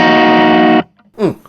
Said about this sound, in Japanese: 一回リバーブなしもう一回聞くと、